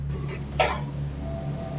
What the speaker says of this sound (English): hears a cough from somewhere nearby